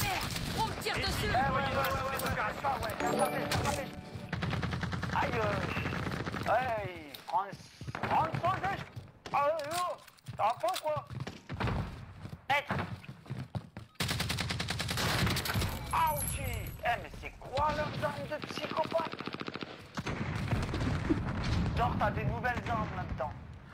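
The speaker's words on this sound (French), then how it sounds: "Merde, on me tire dessus." Dense, near-constant gunfire and explosions rattle through a Call of Duty Warzone Resurgence match, loud and busy throughout, with players talking over the shooting.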